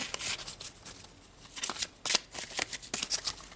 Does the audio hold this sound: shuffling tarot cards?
yes